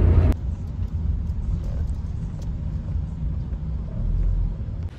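A car drives along a road on an Australian road trip, a steady low engine and tyre rumble filling the cabin with no talk.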